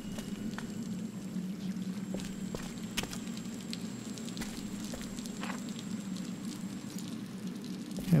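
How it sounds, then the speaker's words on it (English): Water in the game Scanner Sombre: a steady, even wash of rain-like splashing and trickling that stays at a constant level throughout, with a few soft drips on top and no talk. "Okay, that's water."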